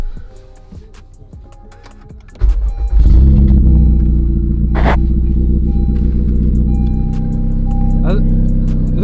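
A tenth-generation Honda Civic Si with a GReddy DD-R exhaust cranks over and starts, then settles into a loud, deep, steady idle rumble close by, with one brief rev partway through.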